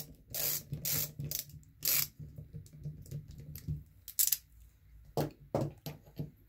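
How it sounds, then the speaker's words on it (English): A 4mm Allen key turned to loosen a screw on a steering servo of an Arrma Kraton 8S 1/5 scale RC car, producing a series of small close clicks and scraping taps in irregular bursts. "So, you turn it right to loosen it. It's a 4mm Allen."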